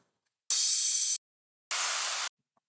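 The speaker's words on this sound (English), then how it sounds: "Some downlifters." Two short bursts of bright, airy noise separated by silence, each a sustained hiss that cuts off abruptly, like a filtered downward sweep effect.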